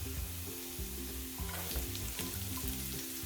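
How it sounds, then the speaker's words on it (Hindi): Finely chopped medium onion frying in a pan for chicken lasagna, a steady dense sizzle with scraping and stirring clatter throughout, fairly close and continuous, no voices. "प्याज को भी हम थोड़ा सा फ्राई कर लेंगे"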